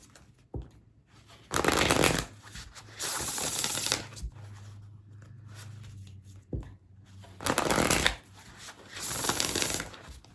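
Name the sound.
shuffling oracle cards for a tarot reading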